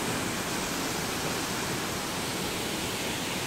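Tews Falls, a tall waterfall, roars as a broad, steady rush of falling water, constant and enveloping with no pauses and no voices.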